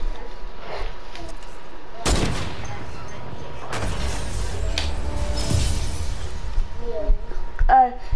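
Bursts of gunfire in a video game scrim, heavy cracks and a sustained volley that rings out loud and close, with a player's voice chatter faintly mixed in near the end.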